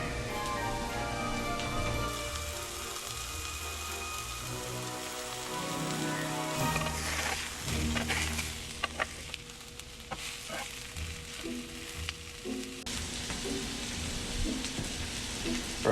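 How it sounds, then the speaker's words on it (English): Burger patties sizzling as they cook with onions in a pan, a steady crackling hiss running the whole time, close and fairly loud, with some faint background music and clinks. "we're gonna throw the patties right on top of them. And you're gonna cook them right in with the onions"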